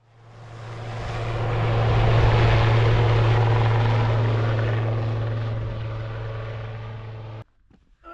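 A loud evacuation helicopter in the Judean Desert near the Dead Sea thumps and whines close by, swelling up then holding steady for several seconds before cutting off abruptly.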